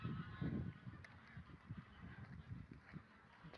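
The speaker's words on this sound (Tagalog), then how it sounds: "Ingay ng mga turkey nila." A flock of turkeys calls in a steady, busy clamor of overlapping honking gobbles, moderately close and continuous.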